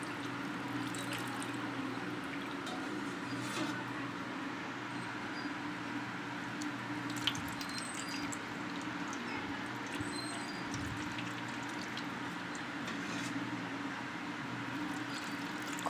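Water is poured continuously over a small idol to bathe it, giving a soft, steady trickle and splash that runs unbroken with faint background hum and no talking.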